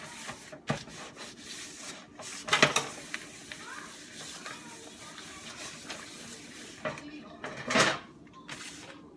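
Something rubbed onto a pizza pan by hand in a home kitchen, giving soft scraping and rubbing strokes with a few sharper clanks of the pan, fairly close and quiet, with occasional talk.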